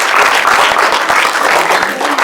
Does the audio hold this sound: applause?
yes